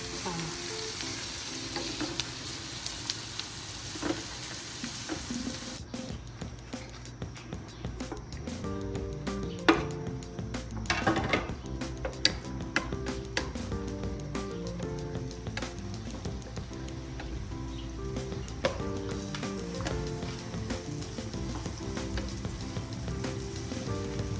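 Onions fry steadily in a pan for a Punjabi urad and kidney bean dal, a continuous crackling sizzle with occasional stirring scrapes and clinks, close and alone without talk.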